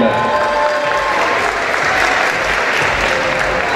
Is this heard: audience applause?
yes